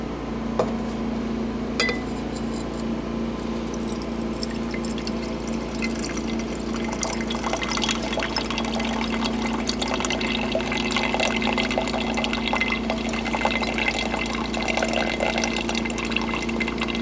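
Gold concentrate being washed out in water after stripping in an electrolytic cell, a steady sloshing and trickling of water against a pan or dish, continuous and fairly close with no talk.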